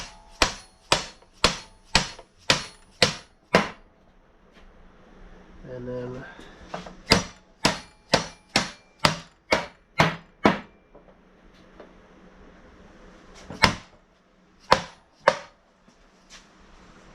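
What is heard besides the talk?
hammering metal skid into place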